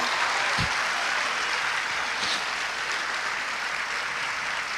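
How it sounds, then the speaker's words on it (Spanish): Congregation clapping during a Spanish-language Christian church sermon, a dense steady wash of applause that stays moderately loud and fades slightly toward the end. "Un aplauso a Cristo"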